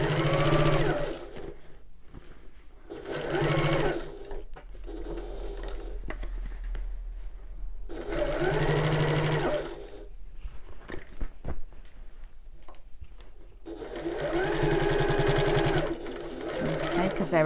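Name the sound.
sewing machine back stitching around the top of a bag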